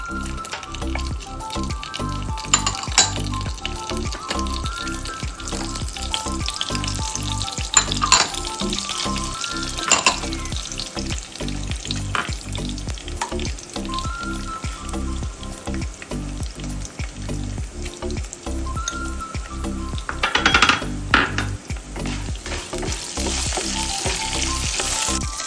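Ingredients, including cashew nuts, fry in a pan with a loud, continuous sizzle and crackle, broken by occasional stirring scrapes and louder bursts of spitting oil.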